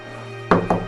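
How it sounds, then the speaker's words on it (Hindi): Knocking on a house door at night: three quick raps, close and fairly loud, after a brief quiet hum. "वहाँ रोशनी ने दरवाज़ा खटखटाया"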